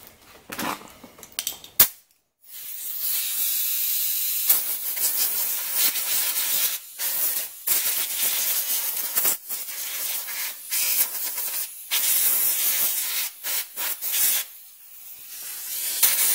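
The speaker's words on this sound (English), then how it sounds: "I'm going to blow it off with compressed air so nothing gets inside the carburetor" Compressed air hisses in repeated bursts and longer sprays while blowing debris off a Stihl MS290 chainsaw near the carburetor, loud and close, with short pauses between blasts and no talking.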